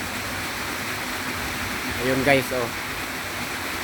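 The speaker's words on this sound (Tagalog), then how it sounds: "ang bagsakan ng tubig." Waterfall in the Philippines crashing onto rocks below, a steady broadband rush filling the whole clip, with someone briefly talking over it midway.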